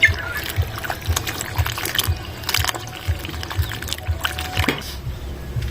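Water pours and trickles during washing outdoors, splashing and dribbling unevenly close by with occasional knocks and clatter, the flow rising and falling over several seconds.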